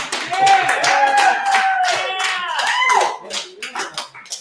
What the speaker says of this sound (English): Clap it up for my new team